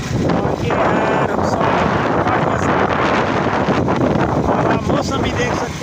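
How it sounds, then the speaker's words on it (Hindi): Strong wind roars steadily outdoors in a village, loud and continuous with heavy buffeting against the microphone, and no clear voices rise above it. "बहुत तेज़ी से हवा चल रही है।"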